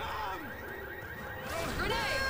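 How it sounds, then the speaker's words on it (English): A car alarm in Left 4 Dead 2 wails with rising and falling electronic tones that grow louder toward the end, mixed with game noise and voices talking. "Some cars set off alarms."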